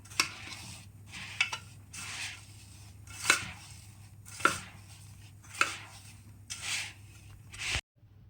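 Jaggery and ground rice are mixed together for rice laddoos, giving a series of soft scraping and stirring strokes at irregular intervals, some sharper taps standing out, fairly faint and close.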